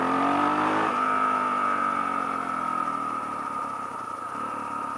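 A Honda XR 400 motorcycle runs at full throttle around 30 mph, its engine drone loud and close, rising in pitch and then holding a steady strained tone, with no talking.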